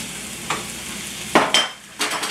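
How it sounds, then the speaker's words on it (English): Ribeye slices hitting hot oil in a pan for a Philly cheesesteak, a steady sizzle broken by several sharp bursts as pieces drop in and are moved around, close and clear with no talking. "I'm gonna add all of my slices of ribeye"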